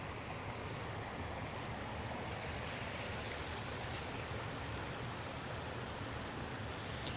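Creek water flows in a steady broadband rush at a campsite beside Nimblewheel Creek in North Georgia, continuous and fairly loud with no pauses and no talking.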